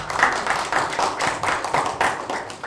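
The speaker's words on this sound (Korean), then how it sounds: "큰 박수 부탁드리겠습니다" Audience applause at a Seongnam Hi-Tech Valley food-tech exchange meeting, a short burst of steady, moderately close hand clapping from a small crowd.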